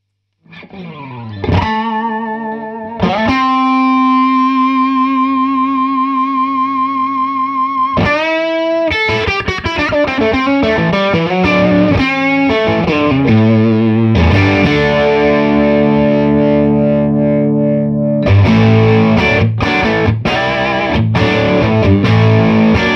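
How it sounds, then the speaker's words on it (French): Electric guitar played through a Gretsch Playboy amp with the mids turned up for a smoother distortion, loud and continuous with chords, single-note runs and sustained ringing notes, heavily effected and with no talking. "quand je monte les médiums, justement, pour avoir une distorsion un peu plus agréable,"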